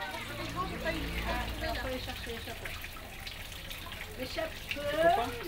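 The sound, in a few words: water falling from child's hand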